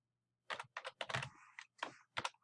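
Computer keyboard typing in quick irregular bursts of crisp key clicks with brief pauses between, close and fairly quiet against a silent background.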